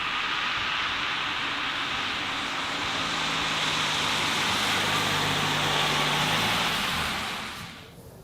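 A Toyota Highlander Hybrid is heard from inside while driving, with a steady broadband road and engine rumble plus a faint low tone as the combustion engine runs. The noise fades near the end.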